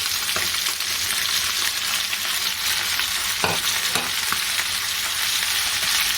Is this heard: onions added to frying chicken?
yes